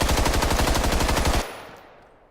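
Rapid automatic gunfire from a gun in the Contagion zombie shooter game, a loud sustained burst of evenly spaced shots that stops abruptly and leaves a short fading tail.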